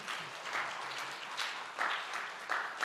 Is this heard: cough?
no